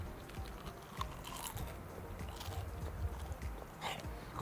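Close, crunchy bites and chewing on a crispy, translucent slice of dried saucisson, repeated over several seconds against a busy background of low noise.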